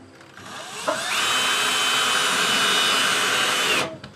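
A power drill whirs steadily at high speed for about three seconds while drilling a hole for a rainwater catchment line to a chicken house, then winds down and stops, close and loud.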